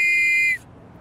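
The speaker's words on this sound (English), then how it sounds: "He adopted the sound for a whistle he was making for the Metropolitan Police" A Metropolitan Police whistle blows one loud, sustained high shrill note for about half a second, then cuts off into quiet background.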